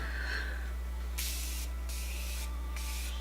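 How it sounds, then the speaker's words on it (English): Two quick bursts of a fine Morphe setting spray mist hiss close up onto a face, each lasting about half a second, over a faint low hum. "we're going to set our face with our Morphe setting spray"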